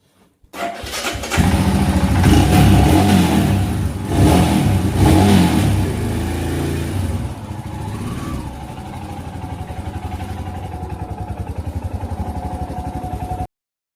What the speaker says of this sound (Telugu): మీరు స్టార్ట్ చేసినప్పుడు సౌండ్ వినొచ్చు, రాయల్ ఎన్ఫీల్డ్ ఇంజిన్ ఏ విధంగా సౌండ్ చేస్తుందో.